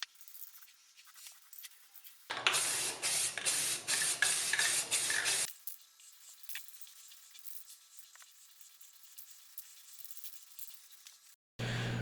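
A spray can laying a light primer coat on bare wooden furniture, heard as a loud, close hissing burst of about three seconds with brief pulses, followed by quieter faint hiss and a short return at the end.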